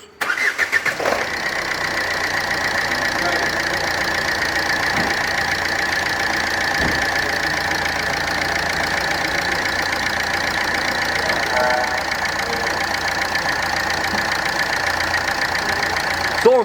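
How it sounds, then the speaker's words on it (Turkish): A Ford Fiesta engine cranks briefly and catches, then settles into a steady, fairly loud idle that continues evenly without speech. "Araca marş yapıyoruz."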